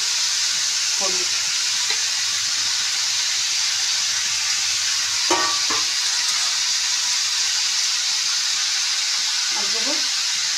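Shredded cabbage fries with salt, turmeric and spices in a pan, giving a steady soft sizzle and hiss with a few scattered scraping stirs, close and fairly quiet.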